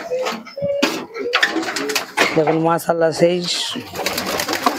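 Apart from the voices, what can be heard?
Malwai pigeons released outside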